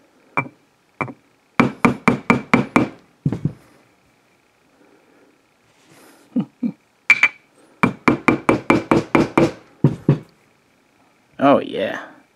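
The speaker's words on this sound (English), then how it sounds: "let's get a light hammer here." A light hammer strikes light wood in quick bursts of sharp, close knocks, several rapid blows in a row separated by pauses, with a few scattered single taps and a brief murmur of voice near the end.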